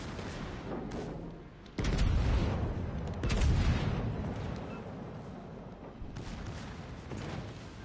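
Warship guns boom in the World of Warships Legends video game, heavy rumbling salvos rolling out in several loud bursts with long decaying tails over background battle noise.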